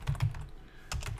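Fingers type quickly on a computer keyboard, two short bursts of close clicking keystrokes separated by a brief pause.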